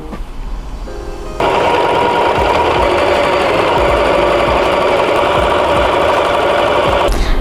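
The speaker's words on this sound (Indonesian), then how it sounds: "Nah, kita jahit sekelilingnya ya." Sewing machine stitching around the edge of a fabric bunny bag, a loud, close, fast mechanical whir that starts softer, then runs at a constant steady speed before stopping.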